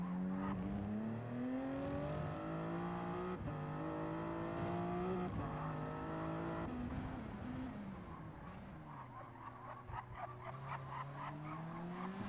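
A GT3 race car driven in a racing video game, its engine revving up and shifting through gears in repeated rising sweeps, then easing off with tire squeal toward the end.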